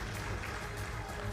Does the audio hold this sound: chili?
no